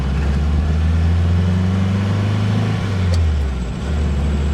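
A 1962 VW Beetle in California replica style cruises along a road, its air-cooled engine giving a steady low drone with a slight rise and fall in pitch and constant road and wind noise, heard close and loud with no talking.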